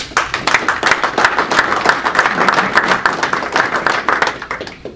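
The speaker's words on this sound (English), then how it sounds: "if you just join me in a round of applause congratulating Tim and the team on their successful move" A small audience claps in a round of applause at a company office-move celebration, steady dense clapping close by that stays even throughout before easing slightly at the end.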